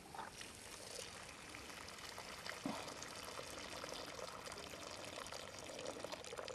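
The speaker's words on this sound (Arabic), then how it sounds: "عندي ماي عشان أعمل أمرق، ننزل في الماي" Water poured into a pot to make broth for rice, a soft continuous pouring and trickling sound, quiet and close, with no talking.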